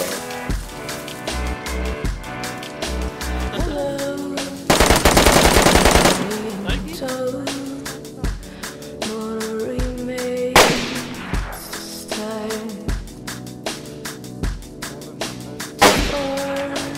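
Gunfire in the video game DayZ: rapid bursts of automatic shots ring out loud and close, with a long sustained volley in the middle and scattered single cracks after it, set over game sound.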